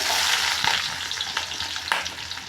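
Cumin and onions frying in hot oil with mustard seeds, giving a close, loud, continuous sizzle with a few stirring scrapes and crackles and no talk.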